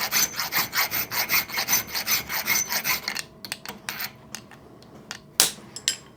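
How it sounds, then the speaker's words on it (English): Hand file rasping a small metal linkage part clamped in a vise: about a dozen steady rhythmic strokes, close and clear, then a few scattered scrapes and a sharp knock. "So all I'm doing is filing away so the little curved bit in the bottom disappears"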